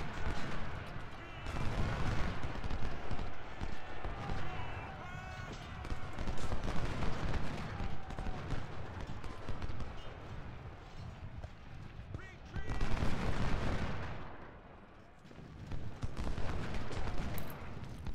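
Battle in the Ultimate General: Civil War video game, with rolling musket volleys and booming artillery bursts repeating in waves under frequent talking voices.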